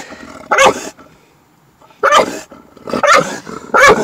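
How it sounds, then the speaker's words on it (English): Two loose dogs bark in a parking lot, sounding close and loud in sharp bursts: one early bark, then a cluster of three, separated by quiet gaps. "There's two dogs out roaming in the parking lot."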